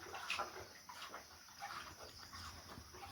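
A cow drinks water from a trough or tub, giving soft, irregular slurping and splashing that sloshes faintly and continuously at close range over a quiet background.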